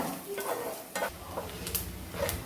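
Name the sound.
coconut pieces frying in a pan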